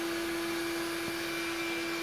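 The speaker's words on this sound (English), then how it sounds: "So we got a new vacuum and it's super lightweight." A Bissell Lift-Off stick vacuum cleaner runs at a steady, close motor whine with a strong constant tone and an airy rush, unbroken throughout with no talk.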